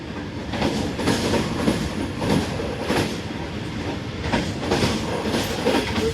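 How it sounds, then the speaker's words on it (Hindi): A train enters Prem Nagar station, a dry port, ahead of departure: a steady, fairly loud rolling rumble with soft rhythmic clatter from the wheels and carriages. "ट्रेन जो है वो एंटर हो रही है बल्कि डिपार्चर के लिए तैयार है।"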